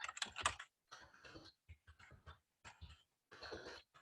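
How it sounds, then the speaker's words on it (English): Bursts of typing on a computer keyboard, quick clusters of key clicks separated by short pauses, close and clear with no talk. "I can type."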